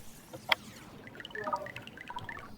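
Water drips and trickles into liquid, starting with one sharp drop and then a quick run of light, plinking drips close by.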